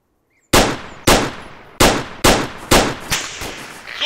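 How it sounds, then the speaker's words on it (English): Loud, close gunfire in the Arma II video game: six sharp reports fired one at a time, each ringing out and decaying before the next, at roughly half-second gaps. "He's firing back."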